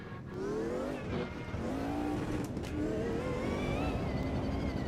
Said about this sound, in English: I think the other engine noise was probably just very faint as well then, and this is a bit louder